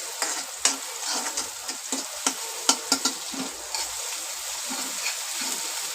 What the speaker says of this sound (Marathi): याच्यामध्ये आपण हा वाटण केलेला ओल्या खोबऱ्याचा मसाला घालून घ्यायचा याच्यामध्ये मस्त व्यवस्थित परतून घ्यायचं आहे